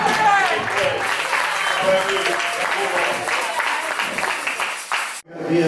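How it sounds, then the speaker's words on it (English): A church congregation claps in praise during a Shabbat praise night, a dense, continuous clapping mixed with voices and music that runs steadily before cutting off abruptly near the end. "let's give the Lord a hearty clap offering of praise tonight"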